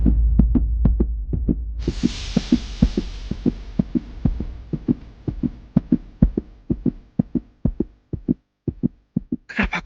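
Heartbeat sound effect in a drama, a steady loud double-thump pulse repeating throughout under a low hum and a hissing swell, with no talking.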